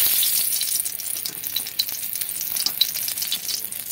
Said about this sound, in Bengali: দিয়ে দেবো দুটো শুকনো লঙ্কা ফোড়ন,